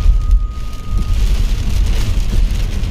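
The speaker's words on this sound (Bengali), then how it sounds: "কি পরিমাণে বৃষ্টি হইতেছে" Heavy rain pours down onto an elevated road, a loud, dense, continuous roar of falling water with low rumbling underneath, steady throughout with no voices.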